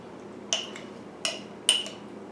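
A spoon mixes blueberry overnight oatmeal made with frozen blueberries, giving three bright, close clinks against the container with quiet gaps between them.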